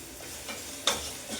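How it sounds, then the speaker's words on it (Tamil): Biryani ingredients sautéing in a pan with salt, giving a soft steady sizzle with light stirring and one brief sharp clink of a utensil partway through. "இது கொஞ்சம் நல்லா வதங்கட்டுங்க"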